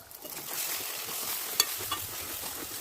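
Stuffed brinjal masala fries in hot oil with a steady close sizzle, broken by a couple of sharp stirring clinks near the end.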